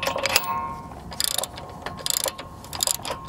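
Ratchet clicking in short rapid bursts as a hand ratchet snugs up the brake caliper bracket bolts on a car during a front and rear brake pad and rotor change, close and crisp with pauses between strokes.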